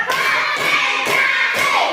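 A fifth-grade class claps together in unison, about four sharp, loud group claps spaced roughly half a second apart inside a classroom, with faint children's voices around them.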